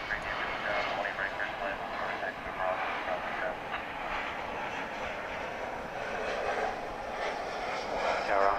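A jet landing on runway 18 right at DFW Airport rumbles with a broad, steady roar at a distance, while radio voices talk over it.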